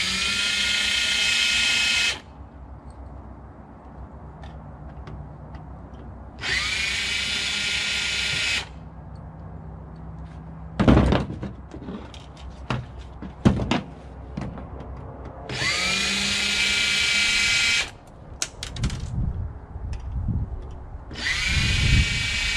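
A power drill backs screws out of the side of an old computer monitor, four short whirring bursts that spin up and stop, with clatter and handling knocks between them, close by.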